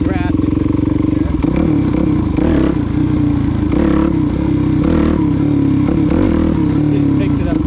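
Suzuki DRZ400 dirt bike on wet grass, engine loud and close with a steady idle burble that jumps into rough revving surges as the rear wheel spins and scrabbles for grip.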